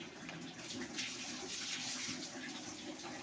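Water pours into a pan of thick spiced rohu fish curry, a steady close rushing splash that continues with no gaps.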